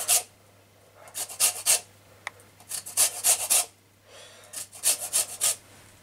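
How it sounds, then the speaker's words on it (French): A rasp grater scrapes zest from a lime in a cheesecake kitchen, with short rhythmic bursts of bright rubbing strokes grouped in quick runs and pauses between them, close and crisp with no speech. "à râper la lime."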